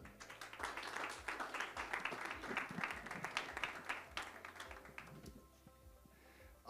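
A webinar audience applauds a panel coming up to the stage, with a dense, moderately distant patter of many hands that carries on for several seconds before fading away.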